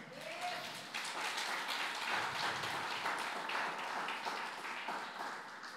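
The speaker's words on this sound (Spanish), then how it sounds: "¿Cuánto le damos una ofrenda de palmas a Cristo, hermano?" Church congregation applauding as an offering of praise, a dense sustained crowd clapping at steady loudness throughout, with some voices mixed in.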